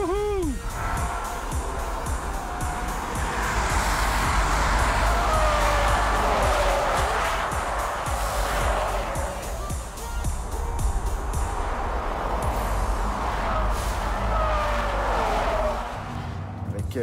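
An SUV from a Jaguar E-PACE, Volvo XC40 and Lexus NX comparison accelerates along a road, its engine and tyre noise rising steadily beneath an excited voice and cabin chatter.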